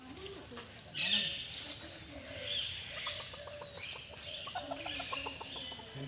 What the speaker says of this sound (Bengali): এগুলো তো দেশি মুরগি